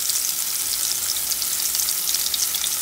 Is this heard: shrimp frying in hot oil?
yes